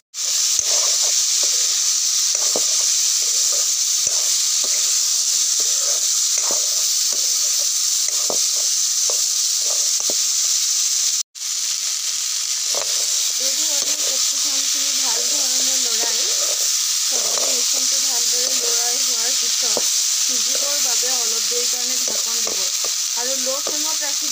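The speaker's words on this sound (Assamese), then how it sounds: "মই কাটি থোৱা কেপচিকাম আৰু আলু তেলত দি পিনি এতিয়া মই বনাই দিম" Capsicum and potato fry in oil in a pan for a capsicum curry, a loud, constant sizzle broken by one brief cut, with stirring and a voice speaking over it in the latter half.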